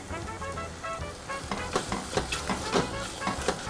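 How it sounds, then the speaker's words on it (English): Chopped spinach and cream being stirred in a pan for a truffle oil pasta sauce: a steady sizzle broken by repeated scraping and clacking strokes that grow louder, with no talk. "Mix it up."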